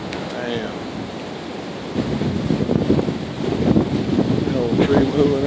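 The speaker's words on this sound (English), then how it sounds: "Man, that's windy now." Strong wind roars continuously, gusting louder partway through, with rustling and a rushing, surf-like texture and no talking.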